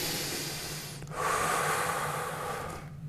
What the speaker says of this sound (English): Big breath in first.